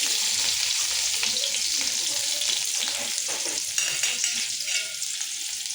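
Onion and cumin sizzle and crackle steadily in a pan, with light stirring scrapes over the close, continuous frying hiss.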